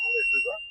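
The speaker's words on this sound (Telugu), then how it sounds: "కానీ బీప్ సౌండ్ వచ్చేస్తుంది" A highway fire alarm system gives a steady high-pitched electronic beep tone, held continuously under a brief stretch of talk.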